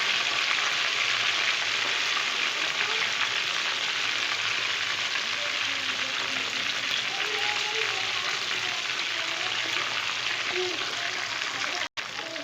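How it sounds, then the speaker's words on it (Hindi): Chicken tikka pieces fry in a pan with a steady, close, dense sizzle that continues throughout. "इसको पीसीस को पूरा फ्राई करना है।"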